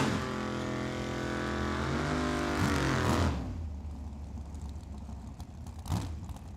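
Purple Chevrolet Camaro drag racing at Tucson Dragway, a loud engine roaring and revving up hard before cutting away abruptly, leaving crowd and track ambience with a brief burst later.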